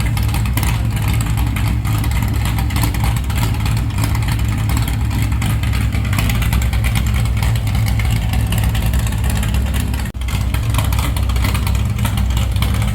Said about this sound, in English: That's about 700 RPM right there at idle.